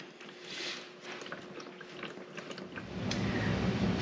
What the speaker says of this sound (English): While we continue to let the oil drain out